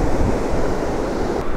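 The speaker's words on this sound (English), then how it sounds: "And look. There's some pretty big waves." Large ocean waves crash and roar steadily off Ngor Island, Senegal, a loud continuous surf wash with wind buffeting the microphone.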